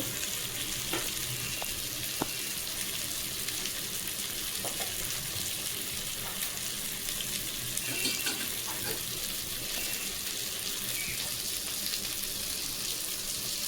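Hot water goes into a frying tilapia curry cooked with eggplant and potato in oil, under a loud, continuous sizzle with a few faint clinks.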